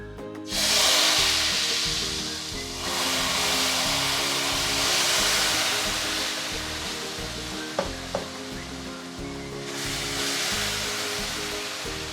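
Sugar syrup poured into ghee-roasted semolina for halwa with the heat off, a loud rushing sizzle and bubbling that rises in surges, with a couple of sharp clinks of a utensil midway.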